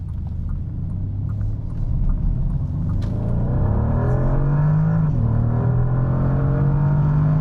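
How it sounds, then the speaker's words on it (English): A 2025 Bentley Flying Spur Speed First Edition in sport mode accelerates hard onto a highway on-ramp, its engine note climbing steadily through rising harmonics over loud, continuous road and cabin rumble, heard from inside with no talking. "Switch it into sport, and we're ready to take this on-ramp."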